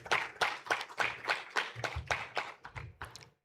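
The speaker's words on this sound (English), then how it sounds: "Another round of applause for the panelists as they step down." Conference audience applauding panelists as they leave the stage, with a series of separate, fairly distinct claps that fade toward the end.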